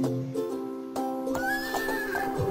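A horse in the children's video game Princess Gloria Horse Club 2 gives a single loud, clear whinny with a wavering, falling pitch, heard alone and close.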